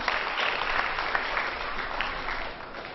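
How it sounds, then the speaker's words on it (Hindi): Loud applause at an Independence Day programme, given by the gathered audience in honour of the martyrs; dense, steady clapping that fills the moment and tapers slightly toward the end. "मैं चाहूंगी कि आप उन शहीदों के सम्मान में एक बार जोरदार तालियां बजाएं"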